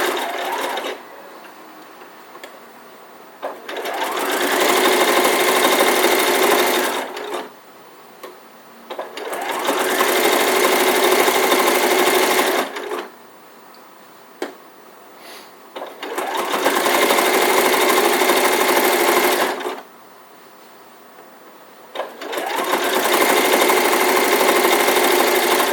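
A sewing machine stitches an elf hat in four loud bursts of rapid, steady whirring, each lasting a few seconds and separated by quiet pauses for repositioning the fabric.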